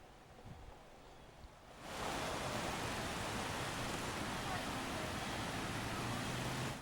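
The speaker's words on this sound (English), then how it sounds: "this normally is not overflowing with water" An overflowing river rushes loudly as a broad, steady wash of flowing water, starting quieter then swelling up close after about two seconds and continuing without pause.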